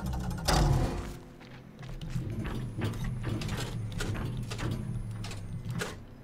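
In The Witness, a puzzle panel resets with a run of mechanical ratcheting clicks and gear-like whirring. It moves in quick, even steps and plays alone at moderate volume.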